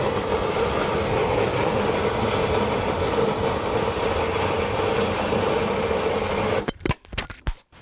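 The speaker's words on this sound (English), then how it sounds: "my poor compressor didn't get enough pressure before I had to turn it off" An air compressor pressurizing a Disney parade prop runs with a steady, loud mechanical drone that then cuts off abruptly, leaving a few scattered clunks and hisses.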